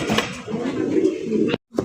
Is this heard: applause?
no